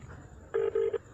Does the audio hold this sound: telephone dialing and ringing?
yes